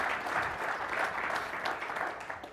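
An audience applauds to welcome Congressman Riggleman. The clapping is dense and steady, a full round of applause that holds at an even loudness throughout with no voices over it.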